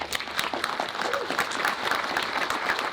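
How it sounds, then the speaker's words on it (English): Audience at a conference fireside chat on regulated versus unregulated exchanges breaks into a round of applause, steady and full for three seconds, fairly close and loud. "A huge round of applause."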